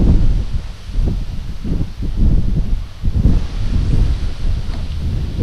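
Strong coastal wind buffets and roars over the microphone on an East Coast UK shoreline during sea fishing, a loud continuous low rumble with gusty surges and no talking.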